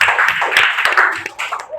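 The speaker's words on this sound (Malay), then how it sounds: "Tepuk tangan sikit." Students in a classroom clap their hands, a dense patter of claps filling about two seconds at close range, loud, with a few voices mixed in.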